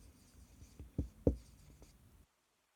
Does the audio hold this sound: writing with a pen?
yes